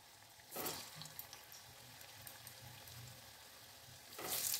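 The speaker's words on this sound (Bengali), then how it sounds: "এবার আমি একটি একটি করে বলগুলো এই তেলের মধ্যে কিন্তু ছেড়ে দেবো।" Balls of dough drop one by one into hot oil, with a faint steady sizzle and two brief louder bursts of bubbling as each one goes in.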